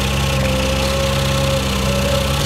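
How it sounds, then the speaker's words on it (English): A Weedoo boat's cutter trims overhead tree limbs along a waterway, giving a steady, loud engine drone with a faint whine held throughout, with no one speaking. "Here's an example of how we can use the cutter to reach up overhead and trim back some limbs."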